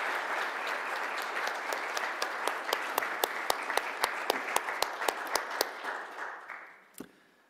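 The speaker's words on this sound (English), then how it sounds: "Let's give our panelists that round of applause that they deserve." A crowd applauds panelists at an evening debate on paying college athletes, dense steady clapping with a few sharp louder claps standing out before it fades into a single final clap.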